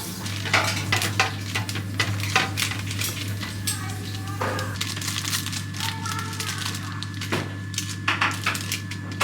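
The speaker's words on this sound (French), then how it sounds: "Là je vais venir former mes petites boules sur ma plaque et ensuite go au four." Cookie dough being shaped into small balls and set on a baking tray, giving soft, close clinks and taps of utensils and tray amid quiet kitchen handling, over a steady low hum.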